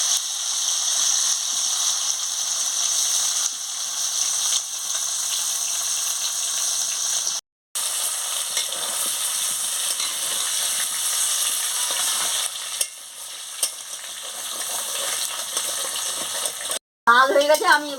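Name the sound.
meat with purple yam frying in a pan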